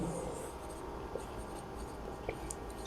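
Pen or marker writing out a maths solution on a board or page, a soft continuous scratching with a few small taps, quiet and close, with no talk.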